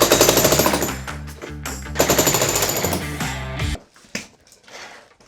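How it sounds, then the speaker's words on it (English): A heavy jackhammer breaks up a concrete basement floor for waterproofing, hammering loud and close in rapid bursts with brief pauses, then cutting off to quieter scattered knocks and debris at the end. "apparently that involves a jackhammer"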